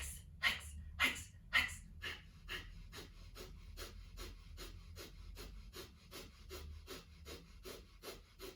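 Kapalabhati breathing in a yoga class: a rapid, even train of short, forceful nasal exhalations, about two per second, close and fairly quiet, with a few stronger puffs at the start.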